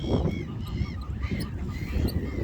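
Ducks being fed bread give several harsh, nasal quacks that come close together over a low, rumbling outdoor background.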